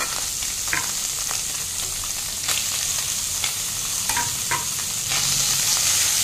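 Fish and ground spice paste fry in a pan with oil while being stirred, a steady close sizzle broken by scraping clicks of the spoon against the pan, with no voices.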